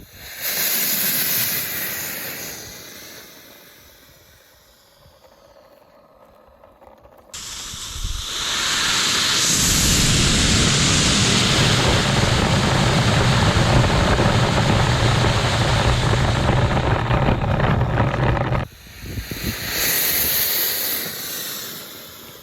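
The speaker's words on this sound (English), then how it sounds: "the sugar rocket does indeed produce thrust" A homemade sugar rocket engine strapped to a rocket skateboard roars with a loud, harsh, sustained hissing thrust for about eleven seconds, after quieter rushing noise, then cuts off abruptly into lighter wind-like hiss.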